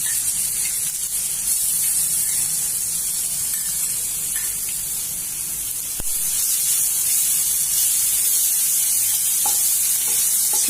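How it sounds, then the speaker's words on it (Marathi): Cumin, fennel and a ginger-garlic-chili paste roasting in a pan over low heat, a steady soft sizzle and hiss with occasional stirring scrapes, close and continuous, no talking. "जिरे चांगलं भाजून घेऊ"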